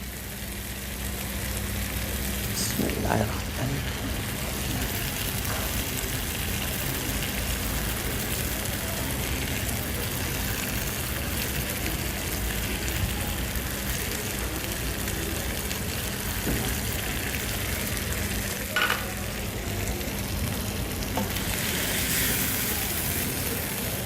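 Rice going into a seafood paella pan, a steady rain-like sizzle holding at an even level throughout, with a few faint knocks and scrapes.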